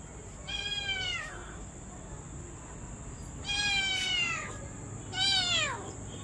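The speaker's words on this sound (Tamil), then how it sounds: "குட்டி பூனை" A kitten meows three times, each call clear and fairly close, spaced a couple of seconds apart over a steady background hiss.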